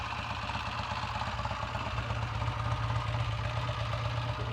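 A Triumph T140V motorcycle engine runs steadily nearby after gearbox repairs, a continuous throbbing idle with a fast, even pulsing beat and no voices.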